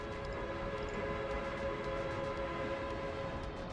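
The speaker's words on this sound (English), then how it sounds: "You can play the whistle sound per train." A train whistle in a railway video game holds a steady, faint tone for several seconds over a low rumble of rolling stock.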